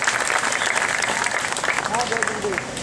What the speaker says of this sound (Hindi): एक बार तालियों से उनको नमन करके उनका अभिनंदन करें